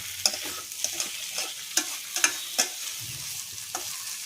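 Ridge gourd, potato and coconut fry in oil in a wok while a spatula scrapes and stirs in sharp, irregular strokes over a low, steady sizzle, close and with no voices.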